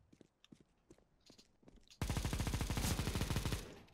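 A Negev machine gun fires in a video game shooter, first as scattered single shots and short bursts, then as a loud, sustained, rapid automatic stream lasting about two seconds. No one speaks.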